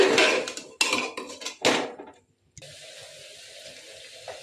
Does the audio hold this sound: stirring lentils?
yes